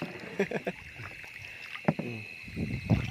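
A small boat is paddled through the water in rural northeastern Thailand during a storm, with irregular splashing paddle strokes and knocks close by over steady wind noise and a faint high hum.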